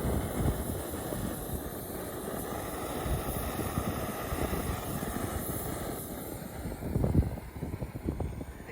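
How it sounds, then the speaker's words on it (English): A new Jetboil camping stove burning outdoors at a wild camp, giving a steady, close roaring hiss with a brief louder surge near the end and no voices. "A new jet boil."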